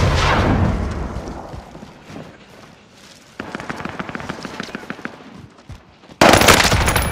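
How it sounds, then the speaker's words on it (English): Gunfire in Call of Duty: Modern Warfare Rebirth Royale, a loud burst at the start, then a run of rapid automatic shots in the middle and another loud blast at the end. "People on prison are shooting."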